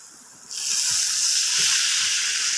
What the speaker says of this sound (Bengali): কষিয়ে জল দিয়ে দিয়েছি।